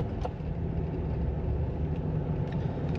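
A Jeep Wrangler JL drives along with a steady low engine and road rumble, continuous and fairly even from start to finish, with faint brief ticks above it.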